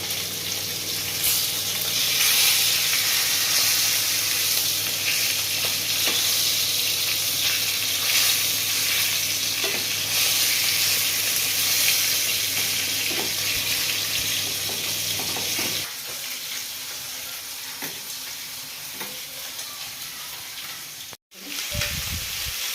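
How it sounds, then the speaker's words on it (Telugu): Pieces of steamed chicken for a homemade chicken mandi frying in a pan, a loud, even, continuous sizzle close up that drops in level near the end and breaks off briefly, with no speech over it. "స్టీమ్ చేసుకున్న చికెన్ని కూడా పెట్టేసుకొని ఫ్రై చేసుకుందాం."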